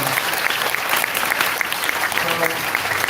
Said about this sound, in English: when you are doing clap, you are giving clap in the Katha and Kirtan